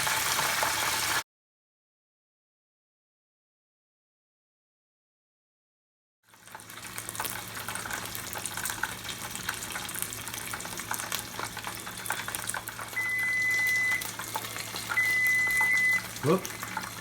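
Chicken wings fry in hot grease, a steady crackling sizzle that starts after a brief silence and continues evenly at close range.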